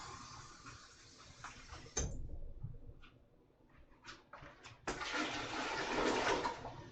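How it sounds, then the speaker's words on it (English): Water runs into a dye pot for yarn, a hissing rush that starts near, pauses briefly, then returns louder and steadier with a faint clatter in between. "So I'm filling up our dye pot."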